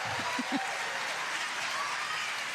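A crowd applauds at a men's singles pickleball championship match, with steady, fairly faint clapping throughout and a voice speaking briefly near the start.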